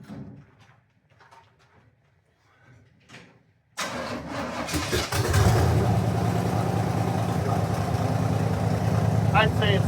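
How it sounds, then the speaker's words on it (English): A car engine cranks and catches after a few seconds of quiet talk, then settles into a loud, steady close idle with a slight rev. "I'd say it started."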